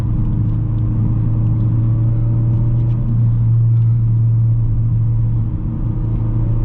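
Engine of a 2017 Ford Focus RS with 43k miles, heard from inside while driving: a steady, loud low drone with a constant hum and faint road rumble, with no one speaking.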